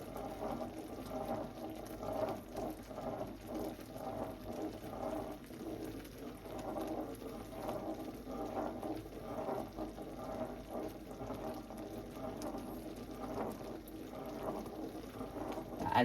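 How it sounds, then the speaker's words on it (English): A St Andy Pandy mixture boils and bubbles in a pan, a faint, continuous low simmering burble with soft popping throughout, steady and fairly distant. "as you can see, it's still bubbling away"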